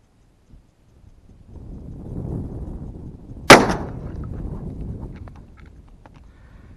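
One loud, sharp shotgun blast fired with a reloaded 32-gram cartridge of number 8 shot through an extra-full choke, followed by a short decaying echo over low outdoor rumble.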